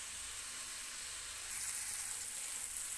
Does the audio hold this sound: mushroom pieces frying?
yes